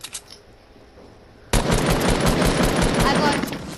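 Sustained automatic gunfire in Fortnite battle royale erupts suddenly and loudly after a quieter stretch, a rapid continuous stream of shots aimed at a built ramp.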